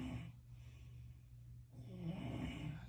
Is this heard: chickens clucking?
no